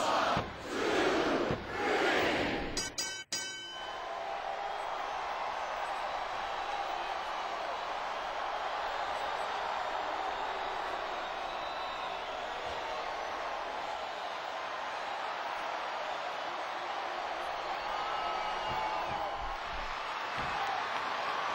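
Wrestling arena crowd roaring after a T-bone suplex, a loud burst of shouts at first, then a sustained, distant-sounding crowd din.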